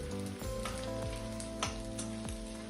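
Edible gum (dink) puffing up as it fries in hot ghee, a steady close sizzle with soft pops and crackles that keeps up without a break.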